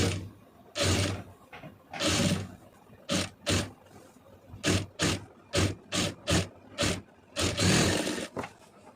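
A sewing machine runs stitch bursts along a blouse neckline, starting and stopping in short, close runs of rapid mechanical chatter, some longer and some clipped, with no talk.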